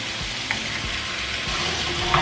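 Shrimp for salsa verde drop into a hot pan and sizzle, a steady bright frying hiss with a few low thumps and stirring knocks, close and unaccompanied by speech.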